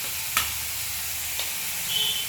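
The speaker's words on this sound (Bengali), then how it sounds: "এবারে হলুদ গুঁড়ো দিয়ে দেবো" Turmeric powder goes into a pan of frying masala for a mustard bhetki fish dish. A steady low sizzle runs throughout, with a couple of faint taps from a spoon or utensil and no talk.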